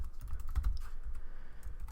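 Someone types a web address on a computer keyboard with quick, steady clicking keystrokes, close and continuous for about two seconds, with no talking.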